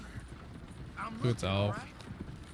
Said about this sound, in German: die Pferde, die kämpfen sich richtig hoch